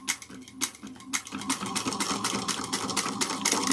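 A sewing machine back stitching on a bag, short bursts of rapid needle clatter that start and stop, then settle into a denser continuous run, close and fairly loud with no talking.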